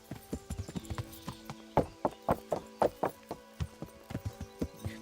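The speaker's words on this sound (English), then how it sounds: "the sounds of the horse walking on the wooden planks is really well done" Horse hooves clop steadily across wooden planks in Kingdom Come: Deliverance, a close, even walking rhythm of distinct hollow knocks that runs unbroken throughout.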